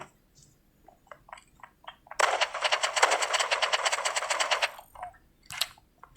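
A sustained burst of assault rifle fire in a video game, about two and a half seconds of rapid automatic shots, loud and close, between quieter scattered in-game clicks and taps.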